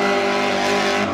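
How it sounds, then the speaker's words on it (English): A car spinning donuts on worn tires, reportedly running maple syrup as engine oil, with a steady loud engine drone held at high revs throughout the short burst. "Couple more donuts"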